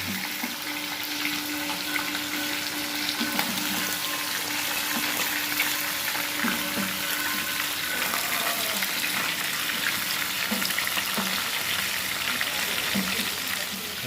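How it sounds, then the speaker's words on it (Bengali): Fish pieces for muri ghonto fry in hot oil in a pan, giving a dense, continuous close sizzle with faint stirring and turning sounds throughout; no talking. "মাছগুলো উল্টে উল্টে নিতে হবে ভালো করে ভাজতে হবে"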